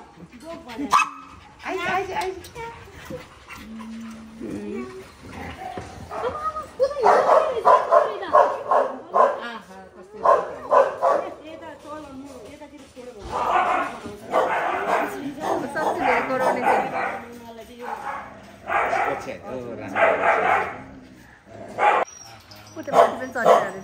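Dogs barking repeatedly at a house door while trying to get inside, loud and close, mixed with whimpers and yips, with people talking and exclaiming over the noise throughout.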